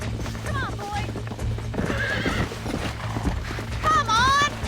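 Horse in the Red Dead Redemption video game, its hoofbeats clip-clopping steadily as it runs while loud whinnies and neighs break out repeatedly, with a voice talking over the action.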